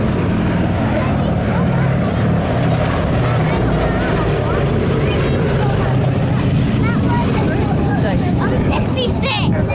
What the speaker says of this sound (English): it's the sole airworthy B-17 in Europe